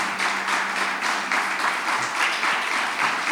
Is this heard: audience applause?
yes